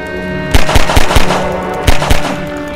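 Father Grigori firing his gun in the video game Half-Life 2: two loud clusters of heavy, booming shots, each a quick string of three or four blasts with a ringing tail over a sustained tonal game backdrop.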